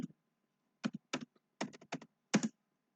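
Someone types a short phrase on a computer keyboard in a classroom, with a few quick bursts of close, crisp key clicks separated by short pauses.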